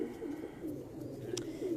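Pigeons coo from a rooftop in a low, soft, rounded murmur that continues throughout, with faint ambient noise behind and a brief chirp near the end.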